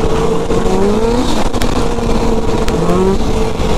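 An off-road vehicle engine throttles up over trail jumps on a snowy day, a loud, steady motor drone with rising and falling pitch sweeps as the revs climb and ease across the jumps.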